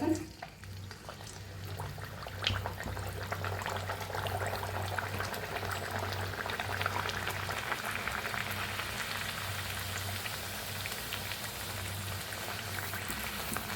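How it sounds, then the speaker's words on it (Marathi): Potato puris fry in hot oil in a wok with a steady bubbling, crackling hiss that swells after a soft opening clink and holds at an even level, near and unaccompanied by talk. "तेल बी चांगलं गरम झालंय तळून घेऊया आता"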